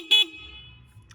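A 50cc Reckless Gen V street-legal scooter horn gives a single short, thin beep, close by, followed by a faint low hum.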